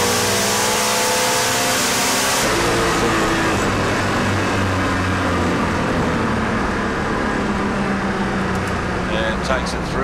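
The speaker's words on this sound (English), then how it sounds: "He's up on the revs, lights come down, off and on the throttle, lifts up the wheels at 330 foot." A drag racing car launches and accelerates hard down the strip at a Friday night drag meet at Calder Park, its loud engine roar filling the whole clip, with a commentator talking over it.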